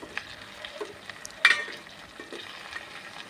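A spoon stirs a potato, cucumber and tomato curry in a pan, a soft sizzle broken by scraping strokes and one louder clack.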